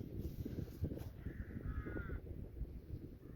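Rooks or crows cawing on a countryside farm track in Leicestershire, several faint distant harsh caws in quick succession over soft outdoor wind rumble, with no voices.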